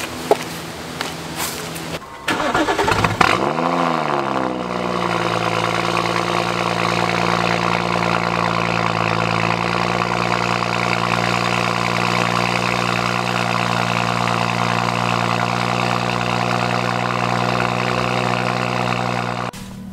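A BMW M235i (F22, N55) with an AWE touring exhaust, midpipe and high-flow catted downpipe cold starts: a brief crank, then a sharp rev flare that settles into a loud, steady, droning high idle that holds to the end, with no talk.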